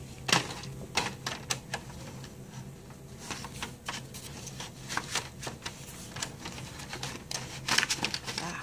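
A Brother MFC-L8850 laser printer prints business cards, giving off a run of sharp clicks and mechanical clacks at irregular intervals over a low steady hum, close by.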